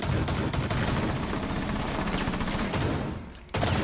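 Dense, loud gunfire from a Rainbow Six Siege match, rapid rattling bursts of shots packed close together for about three seconds, dipping briefly before another burst cuts in.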